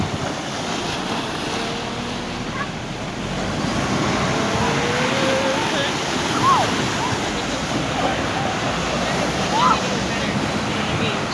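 Ocean waves at high tide on Salthill Beach in Galway, a continuous broad roar of surf mixed with wind buffeting the microphone, with a few faint distant calls over it.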